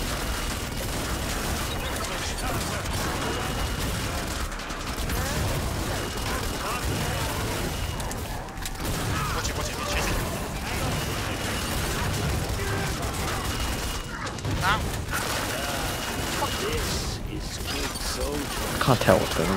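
A dense, continuous barrage of gunfire and explosions in the video game Killing Floor 2 forms a loud, chaotic wall of sound throughout, with a player's voice talking over it.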